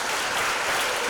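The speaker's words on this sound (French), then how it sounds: "On applaudit, on ovationne." A live audience applauding a guest arriving on stage, a dense, steady wash of clapping filling the moment without any break.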